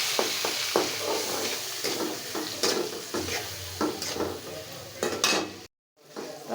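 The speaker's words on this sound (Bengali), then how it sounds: "চিংড়ি মাছটা আমি নুন হলুদ দিয়ে একটু ভাজা" Prawns frying in oil seasoned with salt and turmeric give a steady close sizzle, broken by repeated stirring scrapes and clinks of a spatula against the pan, with a brief drop to silence near the end.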